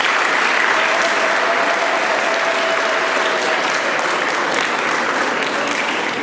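Steady applause from an audience at a closing Mass for a music training session in Bukavu, DR Congo, greeting and acclaiming a guest; dense, continuous clapping fills the room throughout without a break.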